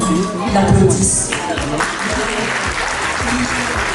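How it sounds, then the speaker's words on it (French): Clapping from a gala audience runs continuously and fairly loud, with some voices mixed in over the steady applause. "j'aimerais que en fait, tout le monde l'applaudisse"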